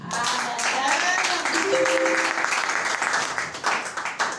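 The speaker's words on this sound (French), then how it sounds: "Je t'invite encore à acclamer pour le Seigneur" A church congregation applauds and cheers for the Lord, a sustained wash of clapping and voices with a person speaking over it.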